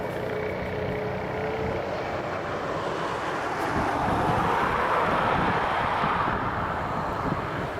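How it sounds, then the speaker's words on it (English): A Ryanair Boeing 737 departing Dublin Airport produces a broad, sustained jet roar that swells slightly in the middle, mixed with wind buffeting on the microphone. "FR1974, this Boeing 737 heading over to Poznan."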